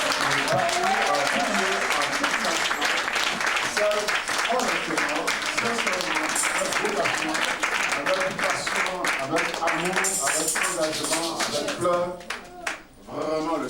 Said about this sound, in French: Acclamons Dieu pour tous les ministres.